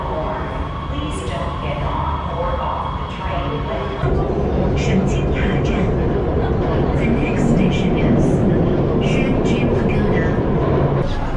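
Loud, constant rumble and broad hum inside a metro station in Nanchang, China, with a train or machinery droning throughout and a brief crowd-like shift partway, no clear talking.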